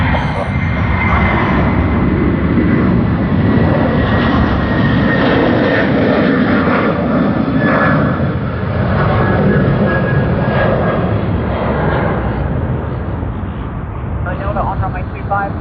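An Airbus A340 of Air X at Sydney Airport gives a loud, continuous roar of jet engine noise that lasts through the whole stretch, with a voice talking over it.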